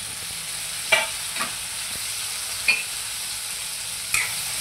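Capsicum and mixed vegetables stir-fried in chilli oil over a high flame for an Indo-Chinese dish, a constant loud sizzle broken by a few sharp scrapes and clanks of the spatula, close up with no voices.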